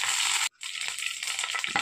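Mustard seeds, green chili and curry leaves are tempered in hot oil, producing a loud, bright, continuous crackling sizzle with a brief dropout, then popping spatters, close up.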